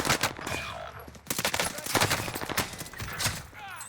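Gunfire in the Call of Duty Warzone video game, with rapid bursts of automatic weapon shots crackling close and loud in quick succession, sustained throughout with only brief gaps.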